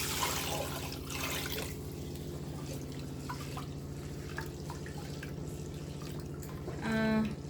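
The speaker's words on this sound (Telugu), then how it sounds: "ఒక 2 టైమ్స్ వాష్ చేసుకోండి పప్పుని" Lentils are rinsed in a home kitchen under running water, with a soft, continuous trickle and light sloshing and dripping. A louder swell of water comes near the end.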